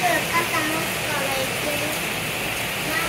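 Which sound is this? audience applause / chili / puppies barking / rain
rain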